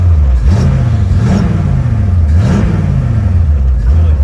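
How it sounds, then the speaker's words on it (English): Ford GT muscle car engine revving in repeated blips, loud and close, rising and falling roughly three times over a steady idle. "It's got good throttle response."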